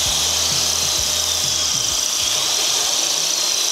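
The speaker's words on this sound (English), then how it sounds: "Now, I'm going to go turn on the grinder, turn on everything else, and let's see how much power it draws." A grinder, blender, hair dryer and drill run together on power from an F-150 Lightning truck, making a steady loud whir with a low, rhythmic pulsing motor drone underneath, continuous and close.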